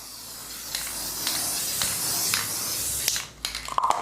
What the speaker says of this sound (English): we take a spray tag. That is our spray adhesive